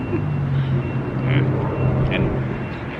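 A vehicle idles and rolls up beside a parked car on a Las Vegas street, a steady low engine rumble with faint higher whines, continuous and moderately close.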